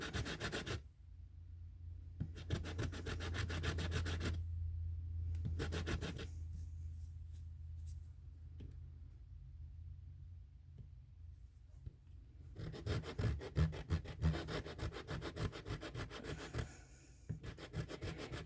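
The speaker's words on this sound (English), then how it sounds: "Yeah, I'm sort of sanding it so it sort of rocks." Rhythmic rasping strokes of sanding a cast powder letter come in several bursts of quick back-and-forth rubbing, close up, separated by quieter pauses.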